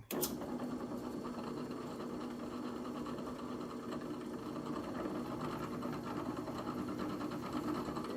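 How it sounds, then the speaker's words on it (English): A hole saw drilling a pilot hole runs steadily and close, with a constant whirring buzz from start to finish and no talk. "I'm gonna go ahead and pop this pilot hole real quick."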